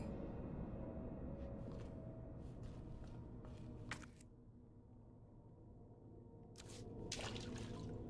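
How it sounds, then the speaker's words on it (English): Sparse, faint water drips fall in a dank setting in the video game Resident Evil 2, a few isolated taps over a low, steady ambient drone with no talk. "Oh, it's a drip."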